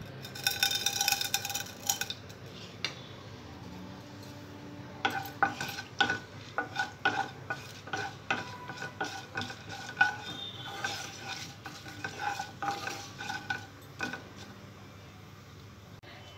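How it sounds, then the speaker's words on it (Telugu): Tempering seeds crackling in hot oil in a pan on a stove while a utensil stirs and scrapes, giving irregular clinks and taps over a soft sizzle; a brief louder burst opens the passage, then steady close stirring with no talk. "ఆయిల్ వేడైన తర్వాత తాలింపు గింజలు వేసుకోవాలి."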